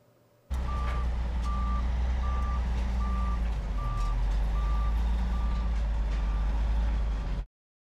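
A slaughterhouse truck arriving and backing up, its reversing alarm beeping in a steady, evenly spaced series over a loud, constant diesel engine rumble, close by with no talk.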